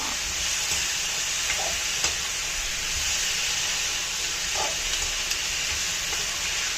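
Pasta sauce with chilli and salt frying and simmering in a pan, giving a steady, close sizzling hiss throughout with a few faint taps.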